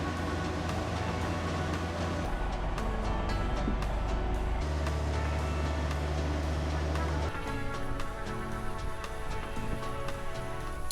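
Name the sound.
Land Rover Defender camper driving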